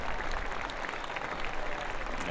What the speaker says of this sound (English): Cook getting a round of applause